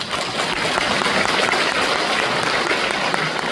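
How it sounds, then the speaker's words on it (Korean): Seminar audience applauding during a business presentation, steady dense clapping from a large crowd filling the room throughout. "박수 한번."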